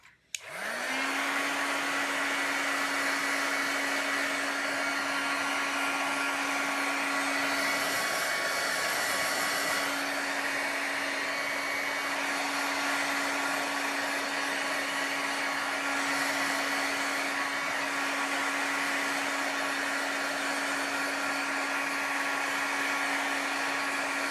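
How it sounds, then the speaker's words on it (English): An electric heat tool blows hot air to dry ink on a cardmaking galaxy background. It switches on abruptly and keeps up a loud, steady whirring hum with a constant motor tone throughout, with slight shifts as it moves. "So excuse me for a moment while I just bring in my heat tool."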